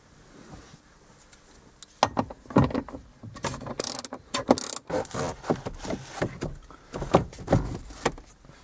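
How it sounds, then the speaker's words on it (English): Ratchet or socket tool loosening 10mm bolts from a Ford Focus dashboard: irregular close clicking and rattling bursts with metallic clatter and handling noise, a few louder clanks midway, no talking. "Remove the 4 10mm bolts."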